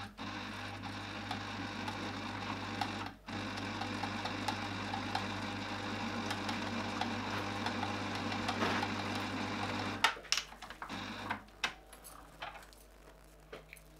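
A sewing machine stitching rows on a fabric hair accessory, a steady mechanical drone running for about ten seconds, then stopping into a few scattered clicks and handling knocks.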